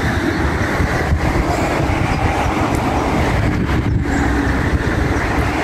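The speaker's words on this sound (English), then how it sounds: "Sorry about the road noise." Traffic roaring along a busy main road in the French countryside, a constant loud rumble of passing vehicles close by with no let-up.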